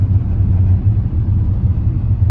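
Car traffic on University Road in Lahore heard as a low, steady rumble of engines and road noise, constant and moderately loud with no talk.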